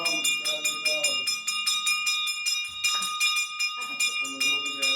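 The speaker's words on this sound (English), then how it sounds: "Grab your drums, grab your bells." Bells ring in a fast, steady rhythm during a Shiva Lingam Abhishek at a Maha Shivaratri gathering, bright and continuous, with voices chanting and singing underneath.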